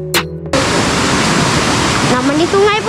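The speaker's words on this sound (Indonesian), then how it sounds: "Nak mandi sungai pun tak boleh. Air dia laju gila." A fast-flowing river at a riverside chalet in Janda Baik rushes loudly and continuously up close, a dense broadband roar with voices talking over it near the end.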